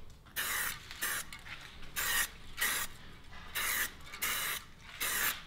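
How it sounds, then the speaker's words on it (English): Short bursts of spray paint from an aerosol can hit bicycle wheel spokes, about seven distinct hissing passes in quick rhythm, each roughly half a second, close and moderately loud with quiet gaps between. "So from above, you can kind of just spray them."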